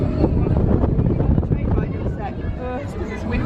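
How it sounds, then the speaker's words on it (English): Strong wind buffets the microphone during a balloon ride at a theme park, a steady loud rumble with voices talking over it. "because it's windy."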